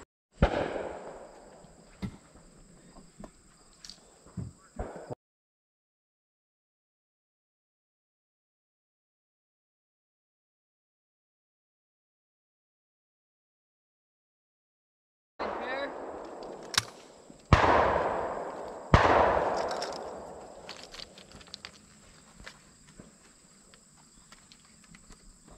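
Shotguns fire at a sporting clays shoot at Coyland Creek in Wisconsin as a few sharp, loud outdoor reports, each with a short decay, separated by a long stretch of silence.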